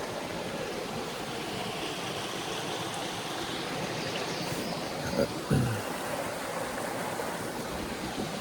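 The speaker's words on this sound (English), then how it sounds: "nice little river right here." A small river rushes beside the Appalachian Trail in a steady, broad wash of flowing water close by, with a couple of brief knocks partway through.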